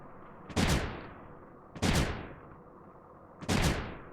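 Cannons firing in the video game Creeper World 3: three sharp, booming blasts spaced evenly about a second and a half apart, each with a short decaying tail.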